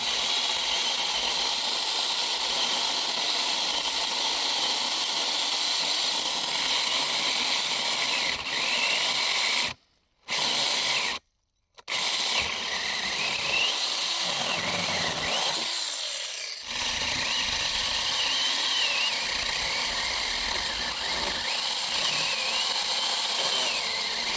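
A Makita 36-volt mini chainsaw runs during a test with a loud, steady buzzing whine. It cuts out abruptly twice for a moment, then keeps running.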